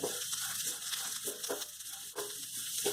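Bitter gourd slices sizzle in a pan with a steady hiss, broken by soft bursts as they are stirred.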